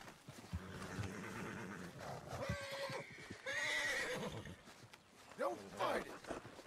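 A painted horse in the video game Red Dead Redemption 2 neighs and whinnies several times in a wild setting, fairly close, with someone talking over and between the calls.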